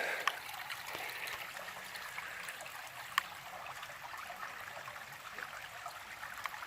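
A forest stream trickles and babbles steadily close by, a soft continuous splashing with a few brighter drips, no voices.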